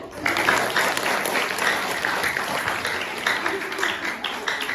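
An audience at a classroom or school gathering claps steadily and loudly throughout, with a few voices faintly mixed into the dense applause.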